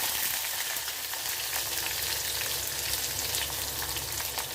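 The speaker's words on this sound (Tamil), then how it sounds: "நல்லா பொறிஞ்சு வரட்டும் கொஞ்சம் கருவேப்பிலை" Curry leaves and fennel seeds fry in hot oil for a jackfruit-seed and raw-mango kuzhambu, giving a steady, loud, continuous sizzle and crackle throughout with no talking.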